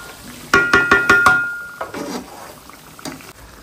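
Chicken is stirred in a pot as water is added. A quick run of five metallic clinks from a spoon against the pot is followed by softer scraping and a couple of later knocks, with no talking.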